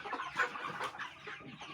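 Tiger chickens on a farm cluck in a short run of several close, moderately loud calls, with no talk.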